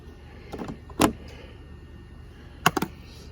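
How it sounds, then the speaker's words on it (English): Plastic push pins are popped out of a car's trim panel, giving a few short, sharp plastic clicks and snaps, one near the start and a quick cluster of three toward the end, with quiet between. "These little push pins here, these little plastic push pins, just pop them out."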